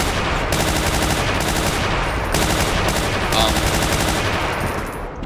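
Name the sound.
gunfire while shooting enemies in the video game Brutal Doom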